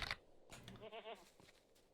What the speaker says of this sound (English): There's a goat.